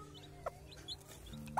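A bantam hen with newly hatched chicks gives a few soft, separate clucks spaced apart over a quiet background, with no voices.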